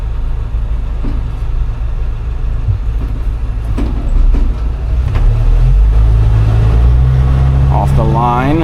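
Low engine drone and road rumble from the cab of a 1988 Grumman LLV mail truck as it pulls away from a stop, with a rising revving tone near the end and someone talking over it.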